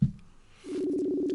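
A steady telephone ringback tone sounds after a brief thump, as a phone call rings out with no answer, holding one unbroken pitch at moderate level with no talking.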